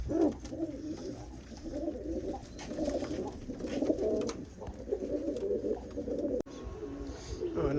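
Domestic pigeons, including golden pigeons, kept in a loft, cooing in repeated low throaty rolls that overlap close by, steady and moderately loud throughout, with no talking.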